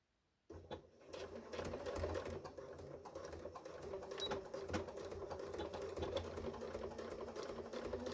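A sewing machine stitches steadily along the edge of a fabric running backpack, starting after a short silence and then humming continuously at close range with no talk.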